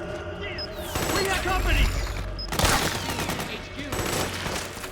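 Suppressing gunfire in Metal Gear Solid 4: sustained bursts of automatic fire and dense shots run for most of the span, with a shouted voice line over the battle noise.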